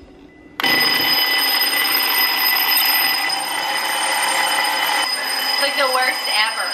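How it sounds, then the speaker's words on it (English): An old-style twin-bell mechanical alarm clock rings loudly and continuously with a harsh metallic clatter after a quiet start, with a voice briefly near the end. "It's one of these old school dual bell, I don't know what they're called, just old school alarm clocks"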